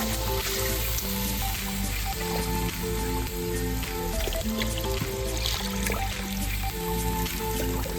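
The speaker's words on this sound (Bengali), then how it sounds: "তো পরিমাণ মতন জল দিয়ে নিচ্ছে" Water pours steadily into a pan of cooking Bhetki fish korma, a continuous splashing trickle that stays loud and even throughout, with no talk.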